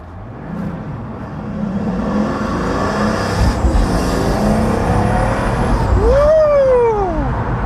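A Pagani Huayra's engine drones steadily with turbo whine from inside the car, building in loudness, with a rising and falling whoosh near the end.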